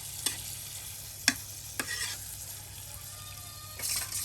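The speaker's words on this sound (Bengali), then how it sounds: "একদম মশলার সাথে মাংসগুলো মিক্সড করে নেওয়া হচ্ছে" Beef is stirred into hand-ground spice paste in a cooking pot for a village-style beef curry: a few sharp spoon scrapes against the pot over a soft, steady sizzle, with a brief splashy stir near the end.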